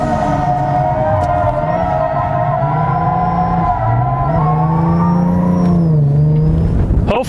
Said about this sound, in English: that's how you get a nice, consistent, controlled drift